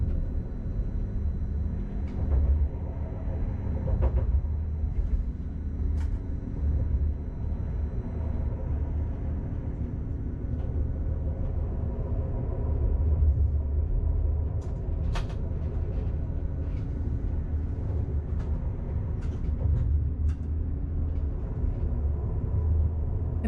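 A train runs on the last day of 2019, heard from the driver's cab as a steady low rumble and drone of motion with faint clicks and rattles over it, beside a swollen river in snow.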